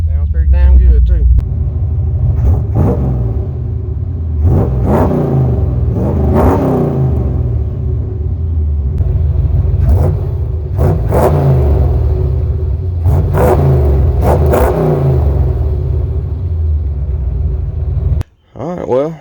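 A 1993 GMC Sierra with a small-block Chevy 350 V8 revs repeatedly, loud close rumbling engine swelling and falling in several rising bursts over a constant idle, ending in a brief cut.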